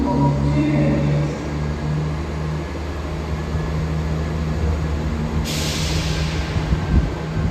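A two-coach train departs Stoke-on-Trent station, a steady loud rumble with low engine drone and rail noise throughout, a hiss of air rising near the end.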